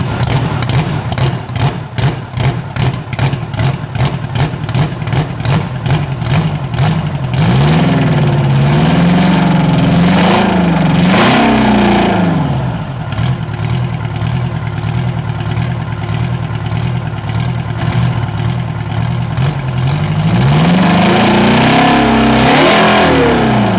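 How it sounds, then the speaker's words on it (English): Old 1970s 318 cubic inch engine rated at 280 horsepower, once used in military and industrial vehicles, cranks with rapid rhythmic chugs, then catches and runs loud and close, revving up and down in uneven surges before settling. "This 318 cubic inch engine, rated at 280 horsepower, was built in the 1970s."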